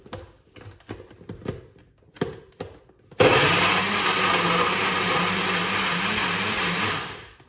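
A few scattered taps and knocks give way to a blender roaring on, blending carrot and pineapple into a smoothie, whirring loudly and steadily for several seconds before winding down.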